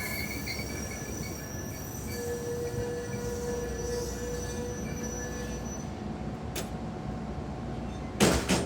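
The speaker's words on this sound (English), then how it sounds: "Amtrak's Cardinal is arriving on time at Crawfordsville." The Amtrak Cardinal rolls into Crawfordsville station with a long steady rumble of railcars and a drawn-out high wheel squeal, followed near the end by a couple of sharp metallic clanks.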